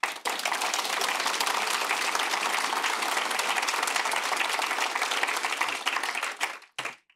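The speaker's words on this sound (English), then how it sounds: "I don't know if you can hear the applause through the microphone, but that's been warmly received" Warm applause from a conference audience at a FinTech event in Leeds, loud dense clapping sustained for several seconds before fading out abruptly near the end.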